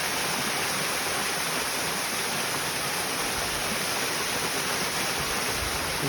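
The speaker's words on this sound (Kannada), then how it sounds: "ಅಲ್ಲಿಂದ ನೀರು ಕೆಳಗೆ ಬಿದ್ದು ನಮಗೆ ಜಲಪಾತದ ರೀತಿಯಲ್ಲಿ ಕಾಣುವಂಥದ್ದು ಅದು ಕಾಣುತ್ತೆ." Water tumbles down a small waterfall beside a temple, a steady, dense rushing roar that holds an even level throughout with no voices.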